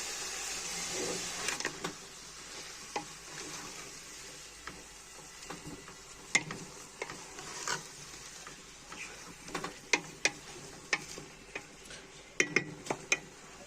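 Spices for Moroccan mrouzia fry in a pot with a faint, steady sizzle, broken by scattered light clinks and taps of a spoon against the metal, quiet and close with no talking.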